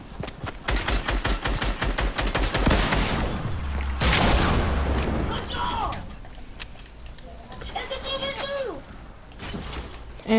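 Gunfire in a Fortnite duo match, including sniper shots: rapid bursts of shots in the opening seconds, then scattered cracks and game effects, with players talking over the action.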